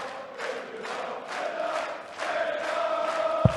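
A darts crowd at a PDC European Tour match in Düsseldorf roars and cheers steadily as the spectators rise to their feet, a broad, sustained wall of voices with rhythmic chanting pulses and a sharp clap near the end.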